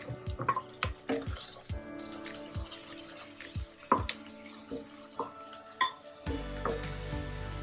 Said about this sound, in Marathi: आता आपला टोमॅटो पण छान परतून झालाय.